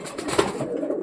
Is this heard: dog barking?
no